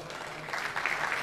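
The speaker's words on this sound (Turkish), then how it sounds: "Alkışlar az geliyor" Crowd applause at a gala evening honouring the chairman of an automotive company, a steady broadband clapping that swells slightly louder toward the end of the short burst, with no talk over it.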